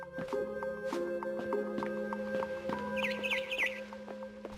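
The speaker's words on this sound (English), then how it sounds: "Then I heard chirping outside my window." Birds chirp outside a window in the video game What Remains of Edith Finch, a few thin high tweets and trills over a sustained game music bed, fairly faint.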